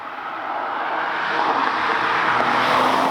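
Tuned BMW M140i Stage 2+ engine heard from inside the car while driving, a steady loud drone that builds slightly in pitch and volume, with no talking.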